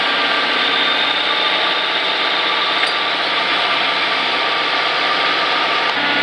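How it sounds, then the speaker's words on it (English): A car engine with a broken exhaust runs steadily with a harsh, raspy drone that holds evenly throughout, with no one speaking. "Well, broken exhaust."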